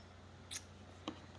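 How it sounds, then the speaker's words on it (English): Scissors cut open a cardboard box with two quick, soft snips about half a second apart, faint and close against a quiet room with low background hum. "I'm gonna need scissors."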